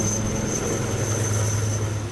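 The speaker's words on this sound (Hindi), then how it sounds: "ये सेना का अपाचे हेलीकॉप्टर है, जिसके जरिए घायल पुलिसकर्मियों को इलाज के लिए भेजा गया।" An army Apache helicopter airlifting injured police in Kathua, a loud, steady engine and rotor drone that holds constant throughout with no voices.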